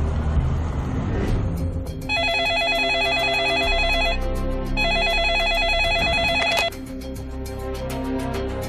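A telephone rings in two long, steady bursts of electronic trilling separated by a short pause. It is clear and close, with no voices over it.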